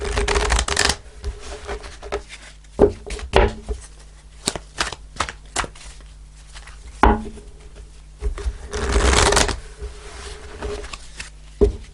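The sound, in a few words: shuffling tarot cards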